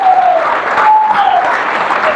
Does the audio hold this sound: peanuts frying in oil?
no